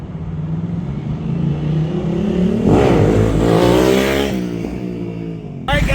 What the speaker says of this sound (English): I'm going to go rip this thing and I'm going to let you know how it feels after the ride.